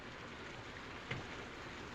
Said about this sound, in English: It's this rain, I guess.